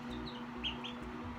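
Baby chicks peep softly in their warm brooder among wood-chip bedding, a few short high chirps rising over a steady low hum, close by and with no voices.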